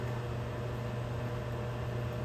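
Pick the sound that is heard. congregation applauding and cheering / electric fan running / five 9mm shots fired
electric fan running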